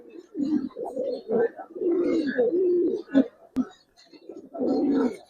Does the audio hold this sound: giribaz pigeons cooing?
yes